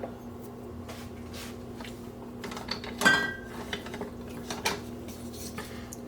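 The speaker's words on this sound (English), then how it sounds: "I'm going to add 2 cloves of garlic that have been finely sliced, and just spread them about in the pan." Finely sliced garlic pushed around a pan with a utensil, giving soft metallic scrapes and light clinks with one sharper clatter, close and unhurried over a faint background hum.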